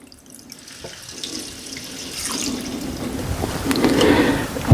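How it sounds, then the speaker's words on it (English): Water poured from a glass into a cooking pot for a grain dish, a gushing, splashing pour that builds in strength over a few seconds and ends with a brief clink, close by with no speech. "Obviously, we're going to have to add some water to this."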